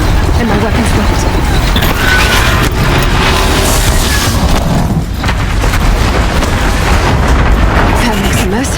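Loud rumbling crash and crumbling debris as a stone pillar and platform collapse in the Horizon Zero Dawn video game, a dense sustained roar under a speaking voice.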